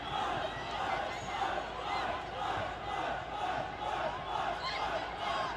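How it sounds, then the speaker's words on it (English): A crowd cheers at a women's ultimate frisbee game in Seattle, with the Utah crowd's steady roar of yelling and chanting filling the air and a commentator's voice under it. "Utah crowd making some noise here."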